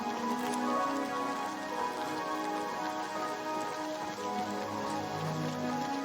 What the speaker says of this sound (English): And the rains are coming.